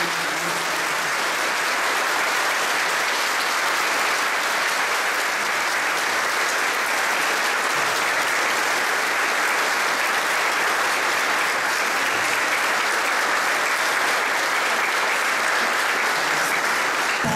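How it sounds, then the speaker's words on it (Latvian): A large audience at a Latvian folk dance concert applauds choreographer Imants Magons, a dense, sustained wash of clapping holding steady and loud for well over fifteen seconds. "Aplausi Imantam Magonam"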